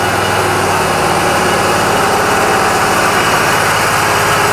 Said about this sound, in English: As I turn it counterclockwise, the engine will start to rev up.